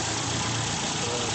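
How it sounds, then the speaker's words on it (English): Small internal combustion engine with a single barrel carburetor and the air filter removed, idling steadily as it warms up, a constant close rumble with no pauses. "First, we let the engine warm up a little bit."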